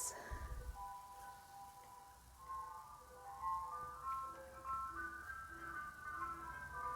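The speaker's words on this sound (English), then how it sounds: "the ice cream truck is outside my window" An ice cream truck's tinny jingle melody plays steadily outside a window, faint and distant, with a brief thump at the start and low room background.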